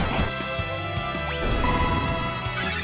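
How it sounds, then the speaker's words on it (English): Critical hit attack in the video game Final Fantasy V, a loud crashing impact hit heard over the game's busy background music, with a rising tonal sweep partway through. "Got a critical hit."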